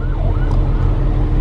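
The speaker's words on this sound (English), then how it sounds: "I hear sirens." A loud ambulance siren wails over the low rumble of traffic, its rising and falling tone partly buried in road noise.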